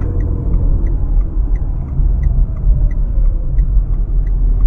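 A Renault Clio with its smallest engine, driven flat out in second gear, drones steadily at full throttle with a low rumbling engine note and faint ticking. The sound is constant and close from inside the car, with no talk over it.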